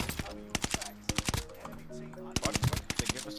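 Bursts of gunfire from a rifle set to burst mode in Call of Duty Warzone, short clusters of rapid sharp shots in two groups, with voices talking underneath.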